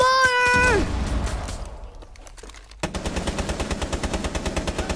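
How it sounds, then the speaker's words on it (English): Rapid machine gun fire from the Rainbow Six Siege video game, a fast, even rattle of loud shots running steadily through the second half after a burst of other game sounds. "My gun has so much recoil."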